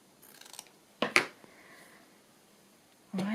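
Scissors snip through fabric during a journaling craft session: a few light rustles, then two quick, crisp close cuts, followed by quiet, and a louder shuffle of material near the end.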